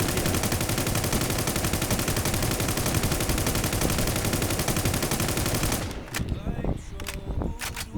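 Rapid automatic gunfire in the video game WarZ II rattles loud and continuous for about six seconds, then breaks into scattered single shots.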